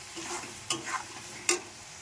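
Cumin, turmeric and chilli powder fry in a pan, with a low steady sizzle and a couple of short stirring scrapes.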